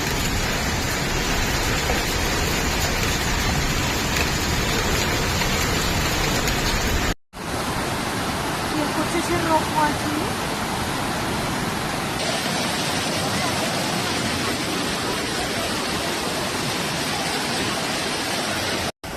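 Heavy summer rain and flood water sweep the city streets of Zaragoza in northern Spain, a dense, constant roar of downpour and rushing runoff. The steady wash is briefly cut off once, then carries on unbroken.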